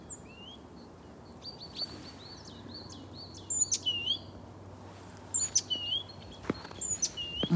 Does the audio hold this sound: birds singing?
yes